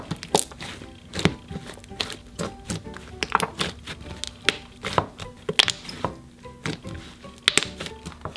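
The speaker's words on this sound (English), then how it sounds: "let's mix that in" White slime being worked into a store-bought slime base by hand, giving a steady run of close, loud wet thunks, slaps and taps in an uneven rhythm, with no talking.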